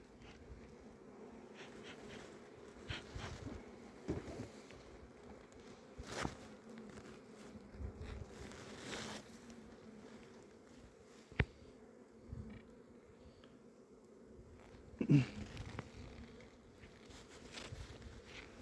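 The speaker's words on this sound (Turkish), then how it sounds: "Şu anda yavru sökmeye başlamış arılarımız." Honey bees hum at an open hive during an inspection, a soft, steady drone close by, with occasional light knocks and handling noises.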